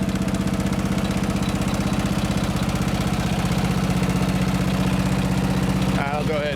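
A riding mower engine idles steadily with a low rhythmic exhaust thump from the muffler, close and constant, briefly overlapped by a voice at the end.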